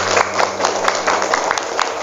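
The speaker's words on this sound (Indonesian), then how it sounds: "Tepuk tangan untuk kita semuanya." Audience clapping at a motivational event in an Islamic boarding school, a dense steady patter of many hands sustained throughout, loud and close.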